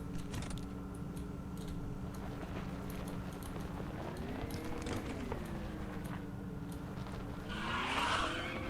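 The company cruiser truck in Lethal Company drifts and skids, its engine humming and wavering steadily while faint tire noise builds into a brief hissy skid near the end. No voices are heard.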